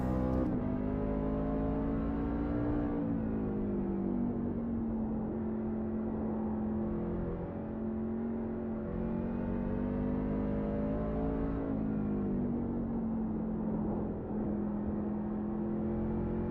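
NASCAR race car engine droning steadily through a slow warm-up lap, a loud continuous roar with gentle rises and dips in pitch as it eases up and builds momentum.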